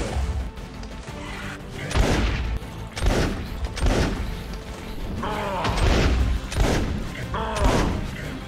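Gunfire from a firearm shooting at a golem in the Minecraft Hexxit modpack, a series of loud, punchy shots in bursts about a second apart, with thuds and game impact noises between them.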